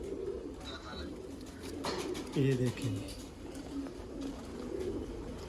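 A Teddy pigeon's soft, low cooing rises briefly in the middle, with someone speaking nearby and faint background hum.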